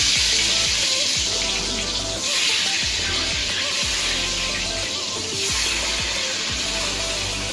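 Potatoes sizzling in mustard oil for a goat meat curry, a steady close hiss of frying with faint clinks, continuous and moderately loud throughout.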